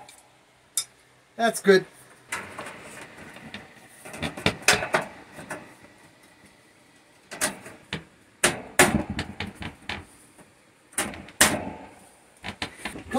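Light metal taps on a dented Engel fridge fan part, sharp clustered knocks in bursts with pauses between, fairly close, with brief speech in between.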